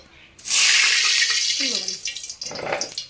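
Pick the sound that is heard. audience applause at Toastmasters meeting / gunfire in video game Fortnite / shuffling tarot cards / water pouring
water pouring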